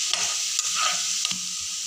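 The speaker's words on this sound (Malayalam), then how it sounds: "നമുക്ക് ഇനി ഉള്ളി ഇടാം. ഇനി വെളുത്തുള്ളി ഇടാം" Onion and garlic sizzle in hot oil in a pan for a Kerala dates and tamarind curry, with a steady bright fry and a few quick stirring scrapes over a short moment.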